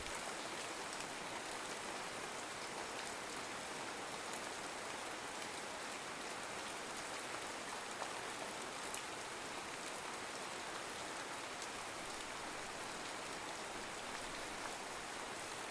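Steady rain pours down across the whole stretch, a dense even hiss of drops striking water and surfaces, close and constant with no voices.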